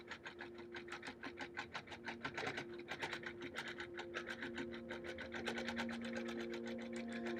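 A sewing machine stitches down the side border of a bird panel quilt, its needle chattering in a fast, even rhythm with a steady motor hum, fairly close and alone.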